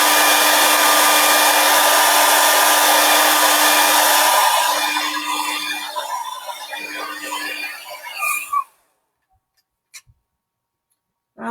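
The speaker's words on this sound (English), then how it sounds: "I'm just going to give this a quick blast with a hairdryer to make doubly sure my trees are dry." A hairdryer blows a loud, steady whoosh to dry a watercolour painting of trees, then trails off unevenly as it is switched off, followed by near silence and a couple of faint ticks.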